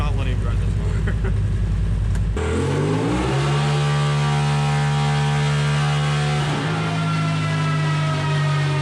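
A Porsche Turbo S with a big turbo upgrade on E85 fuel makes a dyno run with its exhaust open, a loud engine roar climbing steadily in pitch through the revs, then a gear change and a continued high-RPM pull.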